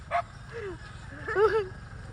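A dog in a fight yelps and barks in short, agitated bursts at a moderate distance in the Philippine countryside, with whining tones over a low background hum.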